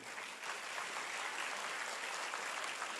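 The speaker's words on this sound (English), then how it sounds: "A huge round of applause to everyone." A large audience at a Union Bank all-India quiz competition claps steadily, a continuous wash of applause heard from a distance at moderate loudness, with no voices above it.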